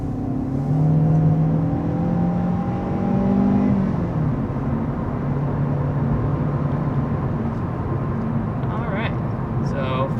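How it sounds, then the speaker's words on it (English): A 2022 Kia Forte with a 2-liter four-cylinder engine accelerates, its engine tone climbing steadily before settling into a steady drone, while a voice talks over it. "taking off with this 2022 Forte"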